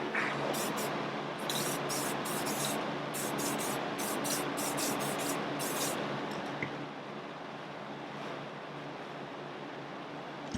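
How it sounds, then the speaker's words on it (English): Sustained aerosol spray hiss of paint being sprayed inside a budget homemade paint booth, a steady broadband rush with rhythmic bursts of bright high-end puffs through the first six seconds, then a continuous softer hiss, close and alone. "Next step is I'm going to spray a little bit of paint in here"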